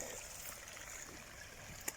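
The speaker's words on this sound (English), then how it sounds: "All right. Water's coming out here. Water's coming out there." A garden irrigation system in a vegetable plot lets water trickle and gurgle out in a faint, steady flow, with one brief louder splash near the end and no voices.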